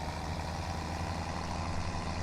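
A tractor engine in the video game Farming Simulator 17 runs with a steady, low, even drone that holds level and close throughout, with no voices over it.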